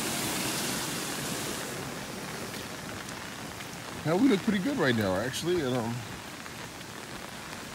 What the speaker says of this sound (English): with this sustained rain